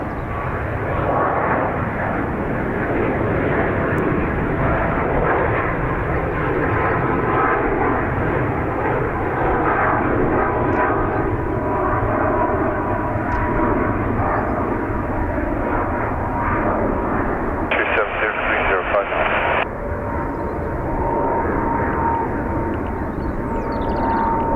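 An American Airlines jet departs Dublin Airport with a loud, sustained engine roar that holds steady throughout, strong and fairly close, with no voices.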